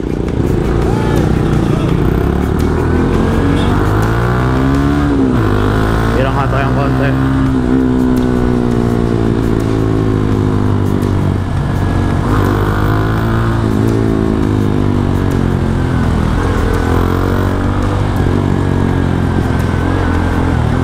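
A Kawasaki-Bajaj Rouser NS160 motorcycle rides loud and close through heavy traffic, its engine rising and falling in pitch as it revs and slows, while someone talks over it.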